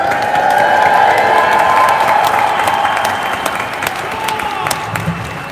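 A rally crowd in St. Paul, Minnesota applauds and cheers, with dense clapping and scattered whoops that hold steady and then ease off slightly toward the end.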